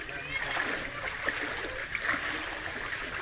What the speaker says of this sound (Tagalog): Ay pala isdaan, umapaw.